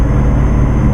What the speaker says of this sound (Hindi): अब इंजन का साउंड भी प्रॉपर आ रहा है।